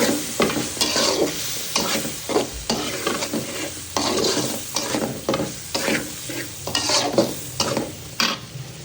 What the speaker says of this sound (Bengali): ভালো করে একটু নাড়া দিয়ে দিব।